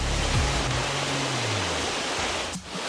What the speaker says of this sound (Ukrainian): Руський водоспад один з найвищих водоспадів України.